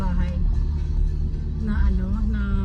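A car drives along, heard from inside the cabin as a steady low engine and road rumble, with a voice speaking over it.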